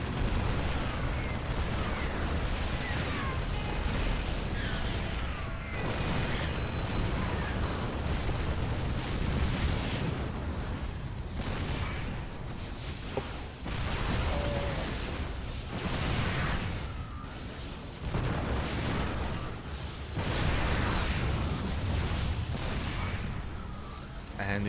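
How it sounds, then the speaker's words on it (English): Siege tank shell volleys in StarCraft 2 during a tournament match, heavy booming blasts and rumbling explosions repeating over dense battle noise, with a caster talking over the fighting. "Tank volley's going up. Tank shells say do zone away the stalkers."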